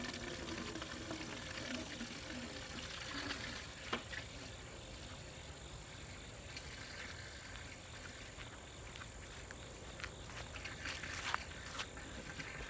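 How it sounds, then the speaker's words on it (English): Water is poured or filled during morning farm chores: a low, steady running-water wash lasting throughout, with a couple of brief knocks near the start and end and no voices. "You get some water here."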